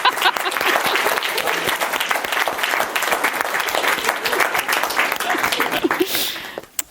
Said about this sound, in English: And just give them a big round of applause.